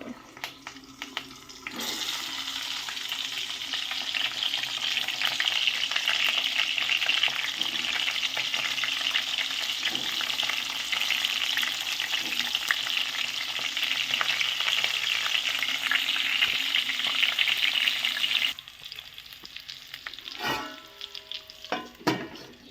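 Cumin seeds and garlic fry in hot oil in a pan, a loud, steady close sizzle that swells after a quiet start and runs for most of the time before dying down into a few clinks.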